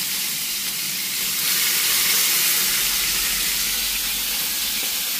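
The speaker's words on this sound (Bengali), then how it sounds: "এই যে চিকেনগুলা ভাজা হয়ে যাচ্ছে" Chicken pieces frying in hot oil give a loud, continuous sizzle and hiss that swells slightly midway and holds steady, with no talking.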